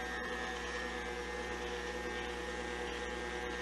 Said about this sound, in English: And you want to let it mix for a good 30 seconds